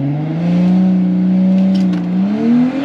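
Loud, sustained engine drone of a kid-driven junior dragster launching down a hot quarter-mile drag strip, the pitch holding steady and then rising as it pulls away, with no voices.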